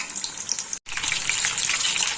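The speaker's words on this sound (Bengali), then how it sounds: "এবার একদম গ্যাসটা সিম করে দিয়ে খানিকক্ষণ ভাজতে দেবো।" Topse fish frying in oil in a pan on a gas stove turned down low, giving a steady, dense crackling sizzle with no talk and a brief cut partway through.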